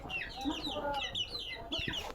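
Chickens cluck in soft, quick bursts, a few close birds calling over one another in a brief, quiet stretch.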